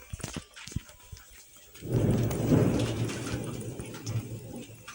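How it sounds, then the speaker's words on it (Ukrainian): A few sharp taps and clicks, then a deep rolling rumble of thunder from a city thunderstorm swells and lingers over steady rain. "у нас просто в місті зараз гроза"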